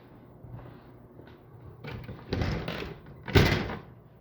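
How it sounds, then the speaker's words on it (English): An interior door in a house being viewed in the Pocono Hemlock Farms area rattles as it is shut, giving a few soft knocks and then a louder clattering bang close by, with no talk. "That door kind of rattles when you shut it."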